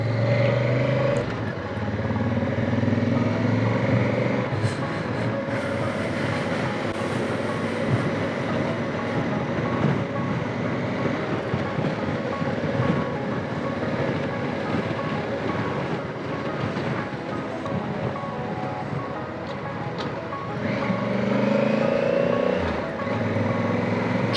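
A car makes a U-turn on a street in a gold fields town, heard as a steady broadband traffic rumble with wind noise and a slight rise in engine tone near the end.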